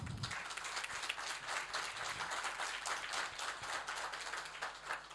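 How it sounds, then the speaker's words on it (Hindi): An audience claps steadily at an indoor talk event, a dense, even burst of applause heard alone and fairly quiet throughout. "सबसे पहले मैं चाहूँगा इनके लिए एक ज़ोरदार ताली हो।"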